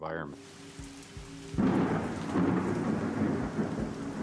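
Rain pours steadily as a low rumble of thunder swells in, loud and enveloping, with the storm building after a brief quieter start, heard near an airport zone.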